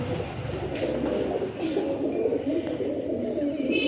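Many caged breeder pigeons coo together in a dense, continuous low murmur at a market pigeon sale, a steady crowded burble close by with no clear pauses.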